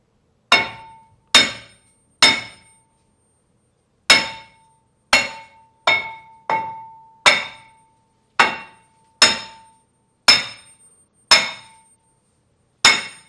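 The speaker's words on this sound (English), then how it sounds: "a few light taps with the sledge" Light sledgehammer taps on a Hyundai Santa Fe brake rotor to loosen it from the hub, a dozen sharp ringing metallic strikes spaced about a second apart, each decaying quickly into silence.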